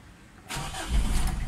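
A Mitsubishi Adventure with the 4D56 diesel engine starts up and settles into a loud, steady running rumble close by, with no voices.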